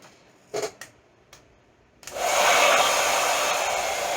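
Heat gun blowing hot air onto an RC car body shell at close range, a few brief handling clicks first, then a loud steady whoosh that starts abruptly and holds to the end.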